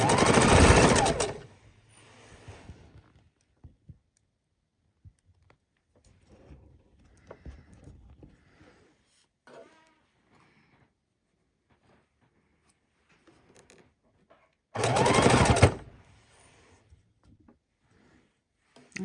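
A sewing machine stitches quarter-inch seams on pinwheel quilt blocks in two loud, close bursts, one at the start and one near the end, with faint handling noises and quiet pauses between them.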